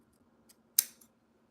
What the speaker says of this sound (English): I'm gonna cut off a tad bit of it